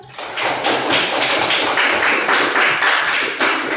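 Rhythmic hand clapping during a lesson, a steady series of evenly spaced claps close and loud, continuing for a few seconds with no talk over it.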